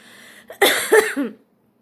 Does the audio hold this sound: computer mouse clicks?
no